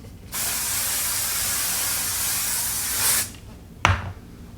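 Aerosol hairspray sprayed onto hair in one steady, close hiss lasting about three seconds, followed by a brief clack of the can being handled.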